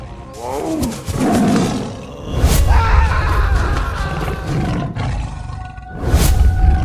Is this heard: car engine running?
no